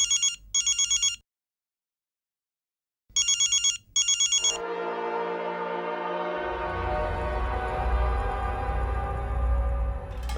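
A phone rings in two paired electronic bursts separated by silence and goes unanswered. A sustained tone and rumbling background noise follow.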